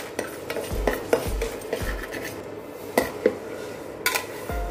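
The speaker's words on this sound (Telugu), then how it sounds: "మెంతులు మంచి స్మెల్ వచ్చే వరకు కూడా వేయించుకోవాలి" Fenugreek seeds and peppercorns dry-roasted in a pan, stirred with a spoon: a run of close, sharp clinks and scrapes against metal at irregular intervals, with a faint dry rattle between.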